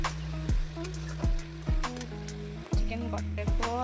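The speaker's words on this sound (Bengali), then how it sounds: "এই দেখো আমি এখন রান্না করছি চিকেন।" Chicken cooking in a pan at home, with a soft sizzle and a few scraping stirs in short bursts against a background hum.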